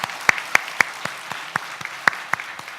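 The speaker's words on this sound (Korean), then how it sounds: "박수로 한번 환영하고 격려해 주시겠습니까?" Sparse, sharp hand claps ring out in a church congregation welcoming a medical missionary from Nigeria, about ten distinct claps spaced unevenly across a few seconds, fairly close and clear over a quiet room.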